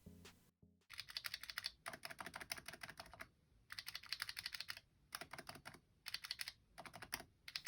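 Typing on a Razer Huntsman Mini Mercury Edition keyboard with red linear optical switches: quick bursts of light, crisp keystrokes in irregular runs separated by brief pauses, close and clear with no voices.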